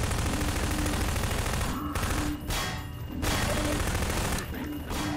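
Sustained gunfire from shooting enemies in Half-Life, a dense, loud fusillade of rapid shots with brief lulls, keeping up across the whole stretch with no talking.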